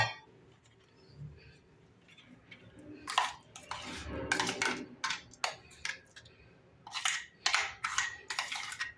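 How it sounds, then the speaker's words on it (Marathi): A utensil scrapes and clinks against a bowl in a run of short, sharp knocks as raw mango chutney is transferred, close by, with no talking. "आता आपण हे एका भांड्यामध्ये काढून घेऊ"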